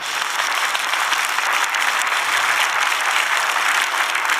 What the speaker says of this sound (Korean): 여러분 하나님께 우리 영광의 박수를 한번 하겠습니다.